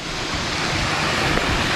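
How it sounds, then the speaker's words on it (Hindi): River water released below a small dam in Meghalaya spills down a small waterfall, producing a dense, constant rushing roar close by. "इधर थोड़ा थोड़ा पानी निकल रहा है, और जिससे ये वाटरफॉल बना हुआ है नीचे आगे"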